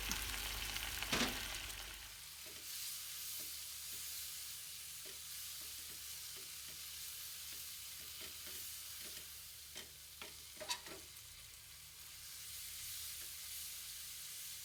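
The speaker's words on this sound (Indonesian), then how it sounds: "Setelah ini dimasak sampai airnya habis ya teman-teman" Shrimp with sambal and garlic simmer and sizzle in a pan while the water cooks off, a steady close hiss broken by scattered light stirring clicks.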